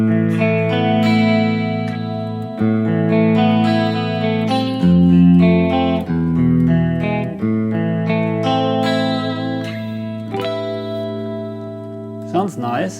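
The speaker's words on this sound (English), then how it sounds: "Let's apply chorus." Electric guitar played through a Harley Benton DNAfx Git Pro with chorus effect, loud sustained chords and notes with a shimmering, wavering tone and ringing decay.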